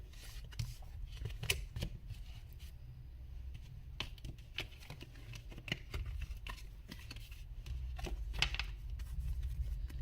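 Tarot cards being gathered up and handled after a reading, giving a run of soft papery shuffles, riffles and light taps over a low steady background hum, with no talking.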